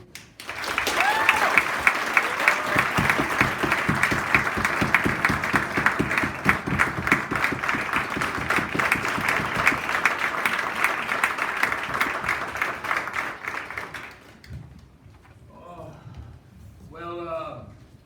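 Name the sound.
audience applause welcoming speaker Jonathan Mooney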